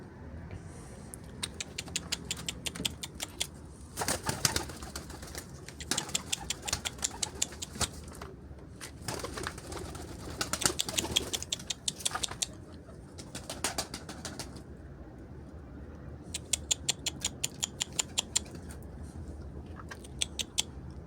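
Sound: Mardin pigeons cooing and flapping while being fed

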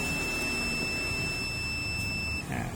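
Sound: multimeter continuity test beeping on TV board pins

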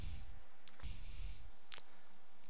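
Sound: computer mouse click on Next button

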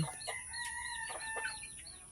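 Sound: chickens clucking

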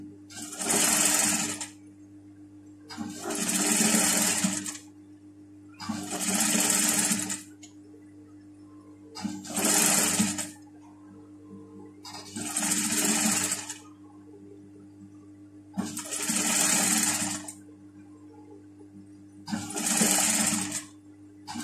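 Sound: sewing machine stitching fabric for a pyjama

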